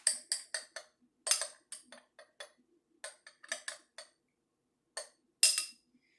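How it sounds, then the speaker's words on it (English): A spoon stirs a mixture in a kitchen DNA extraction, giving a string of sharp clinks and taps against the container, close and alone, in irregular bursts with brief pauses. "I'm going to stir that on up too"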